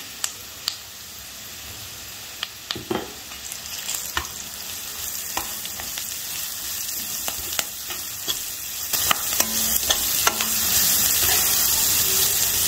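Coarsely ground garlic and coconut sauté with onion in a pan, giving a close, continuous sizzle broken by frequent scraping strokes and light taps of a spatula that grow busier toward the end.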